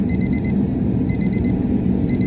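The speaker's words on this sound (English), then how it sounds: "And you hear a buzzer in the background." A car temperature gauge buzzer, set off by heat pushed past its maximum at 263 degrees, beeps in quick high-pitched bursts with pauses between, over a steady loud roar from a running heater.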